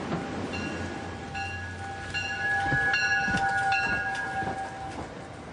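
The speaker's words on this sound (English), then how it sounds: "every morning hundreds of locals board these trains bound for Wall Street" A commuter train bound for Wall Street in New York rumbles along the tracks, with a steady rolling drone, rhythmic clacks and a faint sustained tonal whine, heard fairly near.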